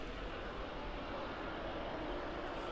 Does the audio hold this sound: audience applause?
no